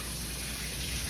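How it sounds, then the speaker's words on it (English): Tap water gushes steadily and close while raw shrimp are rinsed under it in a kitchen sink, a dense continuous hiss with no pauses. "Rinsing my shrimp off."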